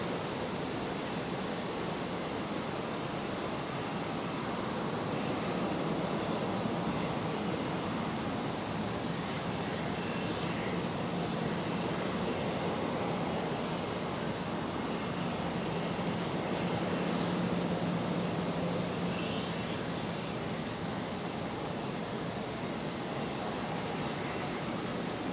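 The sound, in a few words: aircraft taking off from runway 01 left, Brisbane Airport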